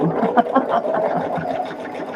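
A sewing machine runs steadily, stitching a quilt with a fast, continuous whirring rhythm, loud and close.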